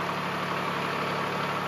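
A tractor engine idles in a steady, low, throbbing rumble that holds unchanged through the short stretch, with no voices.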